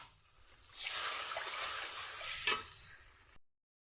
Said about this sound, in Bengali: জল ফুটে উঠছে